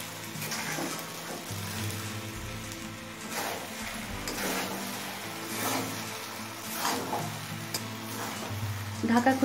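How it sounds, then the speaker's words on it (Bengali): Cauliflower pulao being stirred in an uncovered pan, a steady sizzle and scraping with soft clatters of the spoon, moderately close and continuous throughout. "ঢাকা খুলে পোলাওটা একটু নাড়াচাড়া করে নিলাম।"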